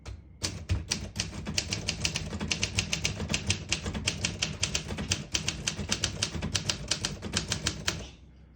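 Steady typing on a 1962 Olympia SM7 portable typewriter, a brisk run of crisp, close key strikes in fairly even rhythm for about eight seconds, with no talk.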